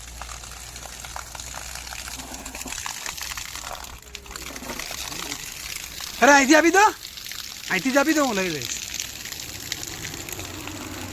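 Cold mountain water near Solang in Himachal flows and splashes while a bottle is filled, with continuous running water under people talking nearby.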